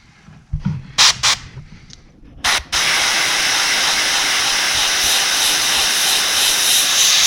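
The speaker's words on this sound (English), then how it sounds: "It's just a quick spritz on it." A steady, loud hiss of spray paint coats a musky crankbait lure in red, preceded by a few short clicks and taps before the continuous spritz takes over.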